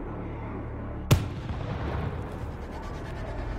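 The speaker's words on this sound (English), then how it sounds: "Throwing a grenade." A single sharp grenade blast in the World War Z video game cracks out over a steady low rumble of game ambience, then the background hum carries on.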